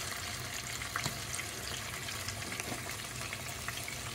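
Super jumbo coconut shrimp frying in hot oil, a steady close sizzle and bubbling hiss running evenly throughout with a few faint pops and no voices.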